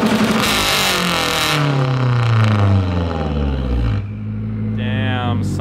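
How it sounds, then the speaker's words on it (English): A loud, fully built Mazdaspeed 3 engine revs hard on a two-step launch control with a rising and falling exhaust roar, then launches into a sustained high-revving pull before the gear changes. "this exhaust video of Corey's fully built Mazda Speed 3"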